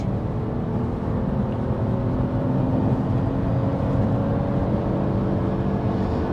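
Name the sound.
Porsche Panamera 4 accelerating at full throttle from 70 km/h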